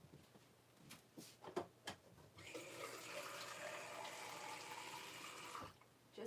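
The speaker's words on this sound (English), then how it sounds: "Just getting some water." A tap is turned on and runs steadily for about three seconds before stopping, preceded by a few faint clicks and handling knocks; quiet and close.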